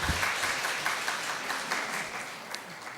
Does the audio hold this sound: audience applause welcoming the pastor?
yes